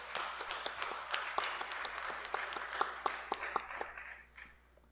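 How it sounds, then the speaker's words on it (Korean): A church congregation at a Sunday worship service claps together, giving a few seconds of moderately distant applause with distinct individual claps standing out before it quickly dies away. "다시 한번 큰 박수로 축복하겠습니다"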